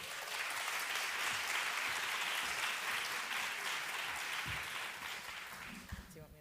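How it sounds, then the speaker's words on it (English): An audience at a book fair applauds to welcome fiction authors onto a panel, a steady, full round of clapping that fades slightly toward the end, with a few faint voices underneath. "Please give them a round of applause and welcome them"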